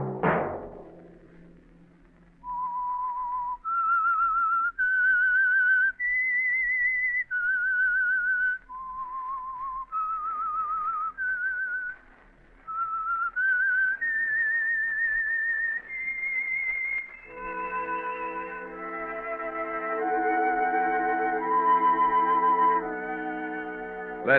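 Whistled theme tune of the radio mystery show The Whistler, a clear solo melody of sustained notes rising and falling, followed by an orchestral chord swelling in near the end.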